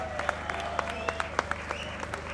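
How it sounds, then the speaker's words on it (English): Crowd applause at an anti-lockdown protest rally in Birmingham city, a steady wash of clapping with scattered sharper claps, fairly distant and continuous. "Give a big round of applause to Jim"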